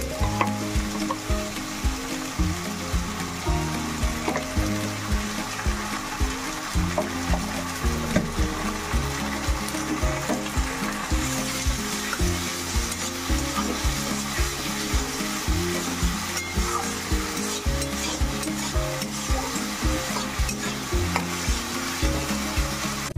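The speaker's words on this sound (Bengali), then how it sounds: "এবার দিয়ে দেবো আদা রসুন বাটা, আদা রসুন আর কাঁচা লঙ্কা বাটা।" A ginger, garlic and green chili paste fries in a pan for a kasha mangsho curry, giving a steady, loud sizzle with repeated scraping stir strokes and no voices.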